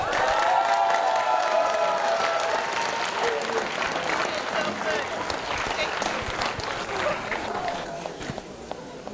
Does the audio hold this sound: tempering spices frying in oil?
no